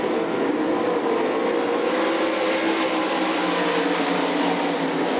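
Roaring USAC Midget race car engines building speed together at the green flag at Knoxville Raceway, a dense, loud mechanical drone that holds steady throughout, with no voices.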